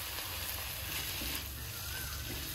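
Tomatoes drop into a hot pan of frying ginger, garlic, green chili and onion masala, giving a steady, quiet sizzle with a low, even crackle throughout.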